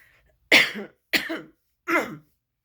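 Three harsh coughs from a person with COVID-19, close and evenly spaced, each short and raspy, with silence between.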